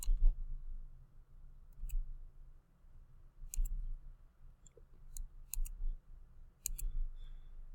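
A computer mouse clicks while a Google Sites page is set up, sounding as sharp, close, light clicks, about half a dozen spaced irregularly over a quiet low hum.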